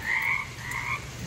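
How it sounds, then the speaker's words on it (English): Bullfrogs croaking in spring, a loud, close chorus of drawn-out, throaty calls that overlap and repeat without pause, with no voices. "But do you hear those bullfrogs?"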